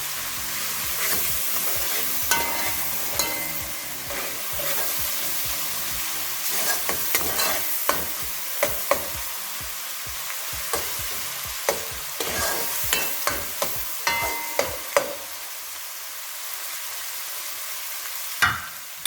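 Stewing hen sizzles and fries in a pot, a steady hiss of hot oil broken by sharp scraping clicks of stirring that grow more frequent toward the end, with no voices.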